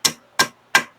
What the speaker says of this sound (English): Even with a hammer, this stuff doesn't want to break up very well.